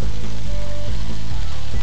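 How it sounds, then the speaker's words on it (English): Chicken roulades sear in a hot frying pan, giving a loud, close, continuous sizzle with faint crackling and no talking. "I've got my little roulades in my frying pan and I'm just going to get them searing very, very quickly"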